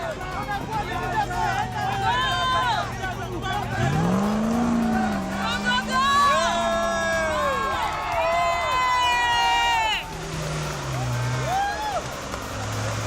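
4x4 off-road vehicles tackling a rock-crawling challenge course at an outdoor event in Kipeto: loud revving engines rise and fall over a continuous crowd babble, with cheering and shouts throughout.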